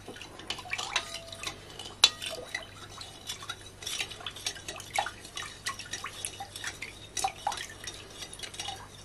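A tablespoon of salt stirred into water in a bowl, with soft liquid sloshing, small drips and light clinks of a spoon against the bowl, quiet and close with no talking.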